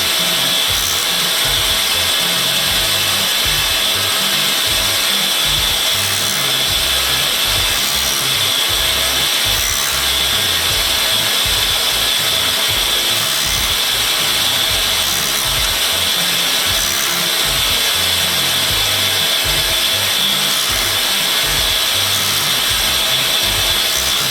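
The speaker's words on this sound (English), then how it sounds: "the whole carriage tilts back away from the grinding wheel as the cam on the end operates" A tool-and-cutter grinding machine grinds spiral flute taps, its grinding wheel working steadily as a cam tilts the carriage back and forth; a continuous, loud abrasive whir with a dense rumbling undertone runs unbroken, with no talking.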